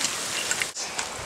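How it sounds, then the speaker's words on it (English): Rain falls outdoors in a dense, steady hiss of close droplets, with a few brighter splashes standing out and no voices. "It's raining."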